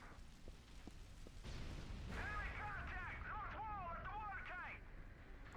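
Booming grenade explosions and gunfire in a PlayStation 3 shooter game, a few sharp bursts early followed by a dense, rolling stretch of blasts and chirping effects, with a player talking over them at times.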